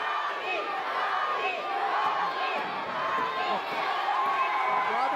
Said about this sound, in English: Vito's down 4-0 as the crowd chants Robbie